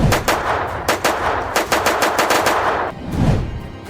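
Rapid automatic gunfire rattles in a long burst of many closely spaced rounds, loud and near, ending abruptly before a duller thump.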